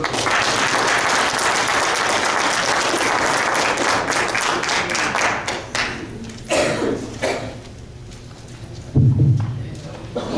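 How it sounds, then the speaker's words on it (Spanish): A church congregation gives a welcoming round of applause, dense clapping that fills the room for several seconds, then thins and fades as a voice begins speaking over the last scattered claps. "Damos un fuerte aplauso."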